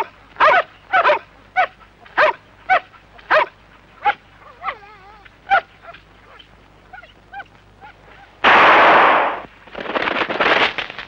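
Dogs in a 1979 Hindi horror thriller bark in a loud, rapid series of close, sharp yelps, then whine and whimper, before a harsh burst of noise cuts in near the end.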